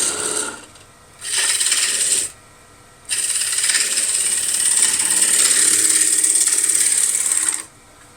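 A wood lathe turns a bowl as a tool cuts a slight undercut on its foot: bright, loud scraping hiss in close bursts, a short pass, another, then one long sustained cut separated by quieter lathe hum, with no voices.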